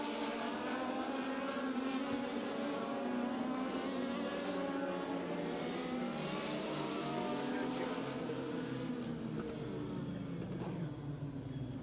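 Several race cars roar around a dirt track during a heat race, engines revving and droning continuously and loudly, with shifting pitch as they pass, while an announcer talks over the steady engine noise.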